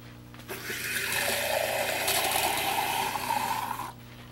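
Water poured into a blender for blending millet in a kitchen, a steady splashing, gurgling stream lasting a few seconds with no talking over it.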